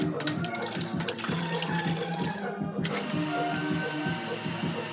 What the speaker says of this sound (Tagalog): paandarin muna natin yung poso